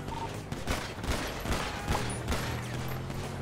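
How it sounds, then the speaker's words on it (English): Gunshots crack out in GTA 5 as a man fires from inside his van, a quick run of sharp, fairly loud reports spaced a fraction of a second apart over a steady rumble. "Bob's shooting in his van."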